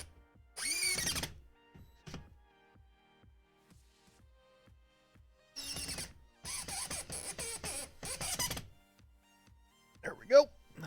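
A power drill drives screws into a sim racing rig in short, loud whirring bursts separated by pauses, with a quieter bit of speech between them.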